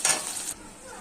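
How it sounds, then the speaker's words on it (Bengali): Onions and chilli fry in hilsa fish oil, giving a bright, close sizzle with a stirring scrape that drops off sharply halfway to a quieter hiss. "পেঁয়াজগুলো হালকা ভাজা হয়ে গেছে, লঙ্কা দিয়েছি, এর মাছের তেলটা দিয়েছি, ইলিশ মাছের তেলটা, শাক ভাজবো"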